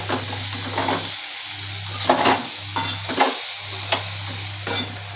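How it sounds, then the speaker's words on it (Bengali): Mixed vegetables and potatoes frying together in a covered pan, a steady close sizzle under a low hum, broken by several stirring scrapes and clinks at irregular intervals. "সব একসঙ্গে দিয়ে ভাজা ভাজা করে নিচ্ছি"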